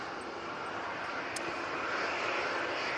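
An Emirates A380 airliner on short final approach gives a steady, broad engine roar that holds loud and constant throughout, with no talking.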